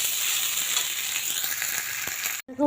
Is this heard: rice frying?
yes